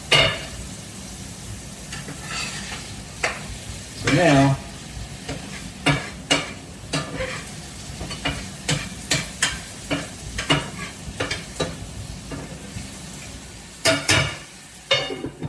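Raw, uncooked shrimp sizzle steadily in a hot frying pan in a home galley while a utensil stirs and scrapes them with repeated clacks and shuffles; someone briefly speaks over the frying.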